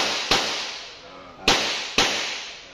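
Three gunshots fired during one-on-one gun safety training, each a sharp, loud crack with a brief decaying tail, the first alone and the last two about half a second apart.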